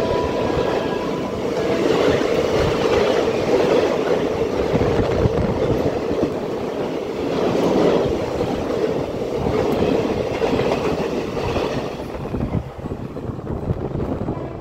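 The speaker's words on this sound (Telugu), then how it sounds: "కొవ్వూరు రైల్వే స్టేషన్ నుండి అయితే మన ట్రైన్ అయితే బయలుదేరిపోయింది" A MEMU passenger train departing Kovvur railway station on an early morning run, heard from on board as a steady loud rumble and rattle of wheels on track, with clicking joints and no talk.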